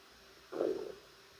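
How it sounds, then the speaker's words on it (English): A person's stomach growls once, a short low gurgling rumble lasting about half a second in a quiet room. "my stomach growled"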